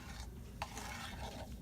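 Curry base frying in a hot pot before chicken goes in, a faint, steady sizzle with soft stirring scrapes and one light clink, heard close and low in level.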